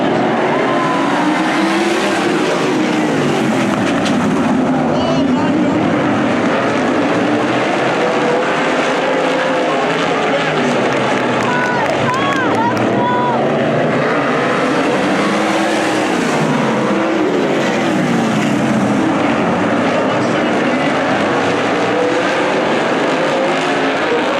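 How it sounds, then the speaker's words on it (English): Winged sprint cars racing around a dirt oval at night, their engines roaring loud and continuous for the whole stretch, rising and falling as the pack passes, with occasional tire squeal. "Cars make some noise."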